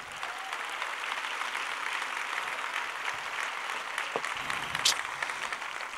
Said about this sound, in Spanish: Dele fuerte las palmas al Señor.